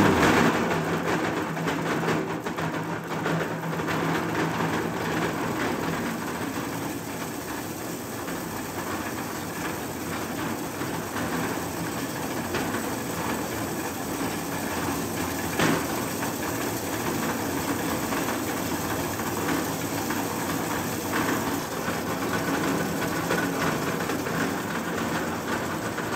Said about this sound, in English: In the second demonstration, we're crushing a minus 10 millimeters metal-rich sample down to